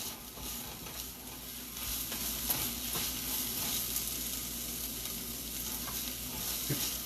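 Vegetables sauteing in a hot pan sizzle steadily throughout, with stirring scrapes and occasional clinks, fairly close and continuous without talk.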